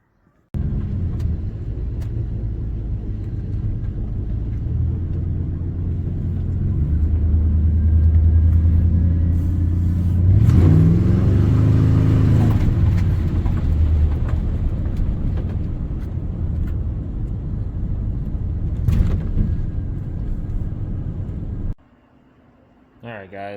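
A 1986 Ford F150 pickup rolls along with a steady, close low engine rumble and road drone, the tone swelling briefly as it speeds up midway, then cutting off abruptly near the end.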